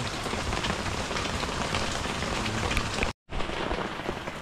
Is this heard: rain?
yes